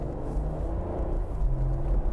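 An Ineos Grenadier petrol engine rumbles steadily at idle, a low, deep, throaty drone holding even for a couple of seconds with no talking.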